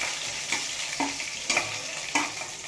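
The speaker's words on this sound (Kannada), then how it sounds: "ಸ್ವಲ್ಪ ಎಣ್ಣೆ ಹಾಕೊತ ಇದ್ದೀನಿ. ಸಾಸಿವೆ ಹಾಕ್ತೆ, ಸ್ವಲ್ಪ ಜೀರಿಗೆ ಹಾಕೊಂಡಿದ್ದೀನಿ, ಕರಿಬೇವು ಹಾಕಿದ್ದೀನಿ" Mustard seeds, cumin and curry leaves crackle and sizzle in hot oil in a pan, steady frying hiss broken by sharp pops and a few stirring knocks, close and moderately quiet with no talking.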